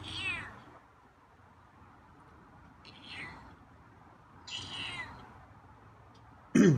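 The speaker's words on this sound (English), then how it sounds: "Oh, you got some loud meows today." A feral cat lets out loud meows in separate bursts, with pauses of quiet between them and one sharp, close cry at the end.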